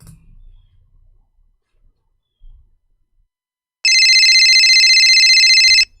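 A cell phone rings out in one long, loud, steady electronic tone that lasts about two seconds near the end, after a near-silent stretch with faint low rumbles.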